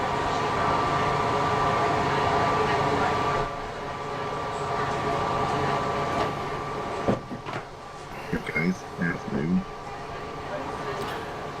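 A virtual suburban passenger train rumbling along the rails with steady mechanical noise, then clanks and knocks near the end as people talk over it.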